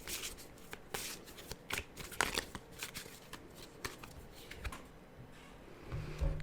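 Tarot cards being shuffled by hand during a reading, a close series of crisp riffling flicks and soft slaps coming in irregular bursts, quiet and near, with no voices over them.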